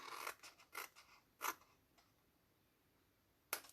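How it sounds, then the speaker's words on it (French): Scissors bevel-cutting paper for a small gift bag: a few quick close snips in a short burst, then a pause and one last crisp cut, with no voices. "On va juste pouvoir biseauter un petit peu à ce niveau-là."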